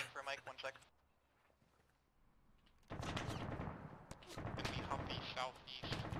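An enemy Humvee's mounted gun firing in the military shooter Arma: brief shots and voices, a quieter pause, then rapid, loud bursts of machine-gun fire hammering nearby, with people talking over the shooting.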